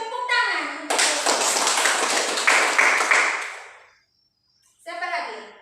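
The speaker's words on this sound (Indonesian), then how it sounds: "Tepuk tangan untuk Desi" A teacher's voice gives way to a burst of classroom clapping, a dense patter of small hands applauding a student for about three seconds before it fades to silence and the teacher's voice returns.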